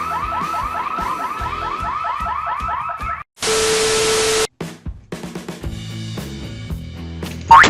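A car anti-theft alarm blares loud and close, cycling through rising warbles, a steady harsh honk and rapid chirping tones in quick succession.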